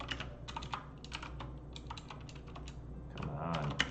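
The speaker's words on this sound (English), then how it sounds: "Definitely not typing correctly." Rapid, uneven clicking of a computer keyboard being typed on, close and moderately quiet, in bursts with short pauses over a low steady room hum.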